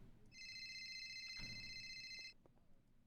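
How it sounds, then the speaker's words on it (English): A phone rings in Grand Theft Auto, a steady electronic trill that holds for about two seconds before cutting off, loud over faint background noise. "I have to take a phone call."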